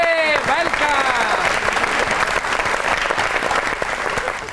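Studio audience applause greets a singer on a comedy talk show, a dense, steady burst of clapping filling the whole stretch, with a host's voice rising over it at the start.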